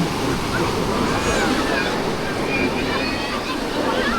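Steady broadband wash of waves and surf on Tawing beach, constant and fairly loud with wind buffeting the microphone throughout.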